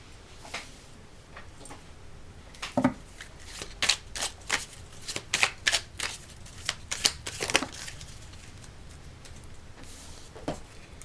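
Tarot cards are shuffled, dropped and pulled from a deck close up, giving quiet papery flicks and sharper slaps in irregular bursts, with busier clusters midway.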